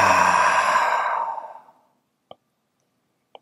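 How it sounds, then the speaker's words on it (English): A long, breathy exhale through the mouth during yoga, close and fairly loud, fading away over about a second and a half, followed by two faint clicks in otherwise quiet air. "Big inhale through the nose, exhale out the mouth again."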